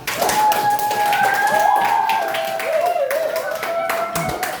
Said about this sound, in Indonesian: Beri tepuk tangan dulu lah.